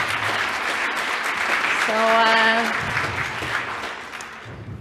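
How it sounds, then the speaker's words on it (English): Audience applause at a conference panel session on CCAM coordination, a steady dense clapping wash running throughout, with a voice speaking briefly over it in the middle. "Another round of applause, I think."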